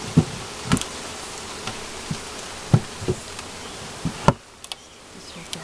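Honeybees fan at the entrance of a newly installed hive, a faint steady buzz with a few louder wingbeat passes and light clicks close by.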